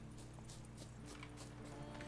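Horse hooves clip-clopping in The Witcher 3, a quick run of soft rhythmic hoofbeats arriving at a steady gait, faint and slightly distant over a low hum.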